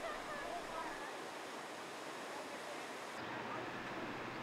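Arkansas River water flowing in Salida, Colorado, a continuous soft rushing wash heard from a distance, faint and steady without clear voices.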